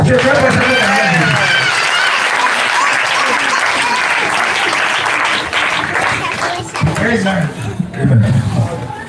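Congregation at a Pentecost jubilee church service applauding and cheering to acclaim the Lord, a loud sustained wash of clapping and voices that thins slightly toward the end as a speaking voice cuts in.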